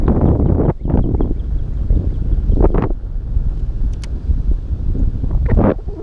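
Steady wind gusts buffet the microphone outdoors during a long-distance fishing cast, a constant low rushing roar with brief louder swells and no talking.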